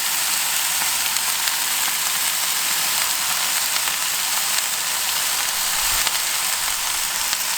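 Bacon and tomatoes sizzle steadily on a kamado grill for a BBQ fry-up breakfast, a dense, even crackle that holds at a close, constant level with a small thump near the end and no talking.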